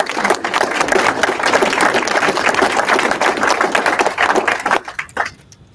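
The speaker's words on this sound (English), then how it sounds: "Can we give a round of applause to our panelists?" Audience applause for the panelists at a live real estate investing workshop, a dense, loud wash of many hands clapping that holds steady for about five seconds, then thins into scattered claps and fades out.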